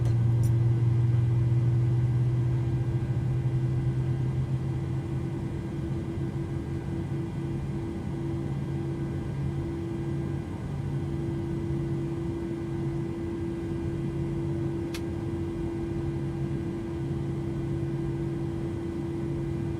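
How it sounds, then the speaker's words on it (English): PMDG 737-800 jet engines idle steadily after start in a flight simulator, a constant low drone with a steady hum that holds evenly throughout, with no talking. "we have 2 good engine starts"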